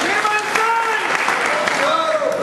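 A crowd at a public gathering claps steadily in dense, even applause, fairly loud throughout with a voice or two faintly rising above it.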